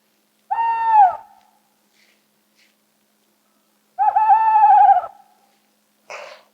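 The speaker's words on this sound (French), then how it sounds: "C'est le hibou, le fameux hibou qui ulule" Two long owl hoots, each a sustained wavering call lasting about a second, separated by a pause, with a short breathy noise at the end, heard alone in a quiet sound-guessing game.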